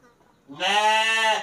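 A thin-tailed sheep in a simple livestock pen lets out one loud, close, wavering bleat after a quiet moment.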